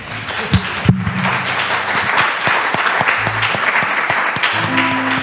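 An audience at an Italian gathering claps steadily in a dense wash that carries through the whole stretch, with a few louder claps standing out and low voices and tones murmuring underneath.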